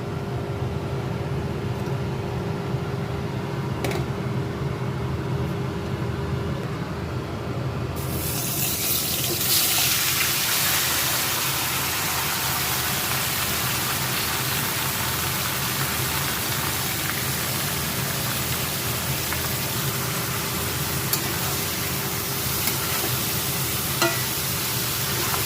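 Jackfruit pieces dropped into hot oil burst into a loud, dense sizzle after a quieter start, then keep frying in a continuous hiss for the rest of the time, with no talking.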